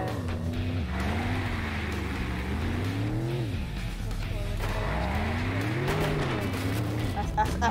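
A game car engine in Earn to Die 3 revs and climbs through rising and falling pitch sweeps, loud and continuous, while a player talks over it.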